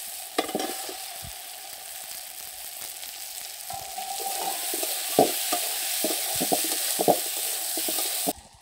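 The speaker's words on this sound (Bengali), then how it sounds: "আমি এবারে এর মধ্যে দিয়ে দেবো কেটে রাখা মাংসগুলো" Chicken pieces sizzle in spice masala in a pan while being stirred, a steady close frying hiss with scraping stir strokes and small pops coming through at intervals.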